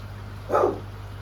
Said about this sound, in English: Why does somebody always decide to bark when I'm doing that?